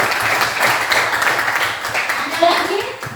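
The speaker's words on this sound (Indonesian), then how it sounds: "Oke, tepuk tangan dulu." Students in a classroom clap their hands after a classmate speaks during a chemistry lesson on acids and bases, a loose scatter of nearby claps running for a few seconds with chatter mixed in.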